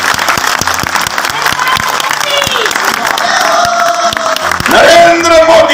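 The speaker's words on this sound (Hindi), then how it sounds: "सभी बजाएं तालियां जोरदार" A crowd at a Himachali gathering organized as a political rally claps loudly, with some cheers and shouts rising near the end, while a voice speaks over the applause.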